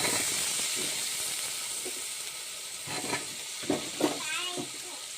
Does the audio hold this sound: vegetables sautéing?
yes